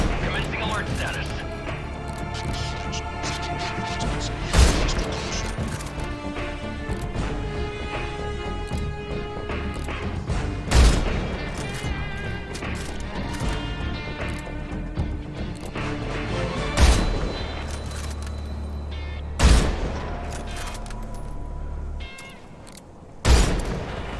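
Gunfire in Metal Gear Solid Delta: Snake Eater, including tranquilizer rounds, rings out as about six sharp, loud shots spaced several seconds apart, with voices and game music carrying on underneath.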